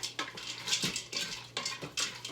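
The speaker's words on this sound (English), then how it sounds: "I'm going to stir this together" A utensil stirs cauliflower alfredo ingredients in a quick cooker pot, making four or five soft, rhythmic scraping and sloshing strokes, close and quiet with no voices.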